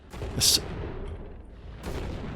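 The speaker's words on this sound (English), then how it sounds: "I can hear things exploding. It's just going bang." Asteroids exploding in the video game Oxygen Not Included: a sharp bang with a bright crack early on, a rumbling tail, then a second, softer burst after a quiet stretch, with no talk over it.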